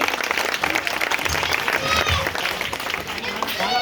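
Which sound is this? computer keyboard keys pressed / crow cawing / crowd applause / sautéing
crowd applause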